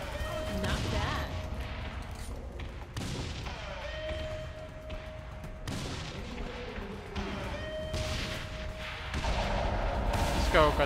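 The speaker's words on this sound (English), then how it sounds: "Way too many explosions." Video-game combat in Saints Row The Third brings repeated explosions and gunfire, sharp blasts landing every few seconds over a rumbling, busy background, with a tone sounding between impacts and a voice talking at times.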